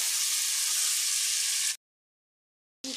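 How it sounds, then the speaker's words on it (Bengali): Potatoes fry in a pan alongside pieces of meat, giving a bright, loud, hissing sizzle that cuts off abruptly into silence and briefly returns at the end. "এবারে আলুগুলো এবার আমি ভেজে নেব"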